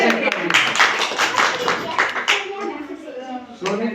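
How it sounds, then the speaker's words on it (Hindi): Schoolchildren in a classroom clap hands in quick, uneven bursts of claps, close and fairly loud, with voices overlapping. "आप ताली ऊपर बजा चेक दीजिए"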